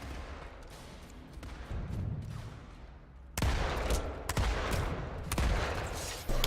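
Heavy NS pistol shots in the online shooter PlanetSide 2, a few sharp loud reports in quick bursts over a dense background of distant battle gunfire and explosions.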